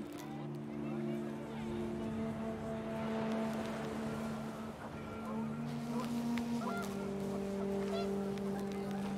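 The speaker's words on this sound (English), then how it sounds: "The wind picked up, and panicked geese appeared and quickly went." Panicked geese in the video game What Remains of Edith Finch honk in a loud, steady chorus of sustained calls over windy outdoor ambience throughout.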